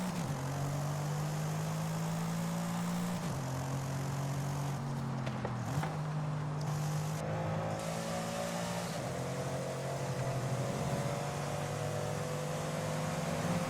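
A Mercedes-Benz E63s engine in the video game Forza Horizon 5, still on stock exhaust and air filters, drones at a steady mid-range hum with a few shifts in pitch as it rolls along, moderately loud and without talk.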